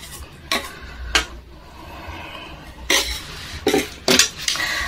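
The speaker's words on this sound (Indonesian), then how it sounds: "Udah keaduk-aduk, udah tercampur mie ayamnya, udah bercampur." Chicken noodles (mie ayam) with green chili sauce being stirred in a bowl, giving several short scraping, clinking strokes in irregular bursts, close and moderately loud, with no talking.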